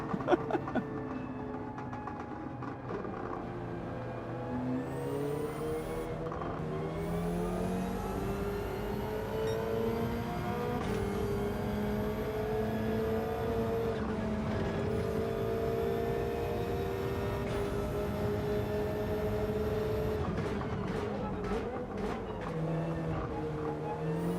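A powerful car engine in the Gran Turismo 7 racing game revs and holds a steady drone, rising and falling in pitch with repeated gear shifts, loud and continuous throughout.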